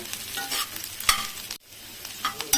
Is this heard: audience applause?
no